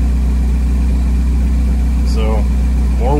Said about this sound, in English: So just kind of letting it idle,